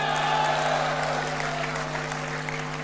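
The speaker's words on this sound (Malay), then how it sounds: "Oleh kerana tepukan kurang kuat," Applause from a convention crowd at a Barisan Nasional political gathering, a fairly thin, steady patter of clapping that holds evenly throughout over a low hum from the hall's sound system.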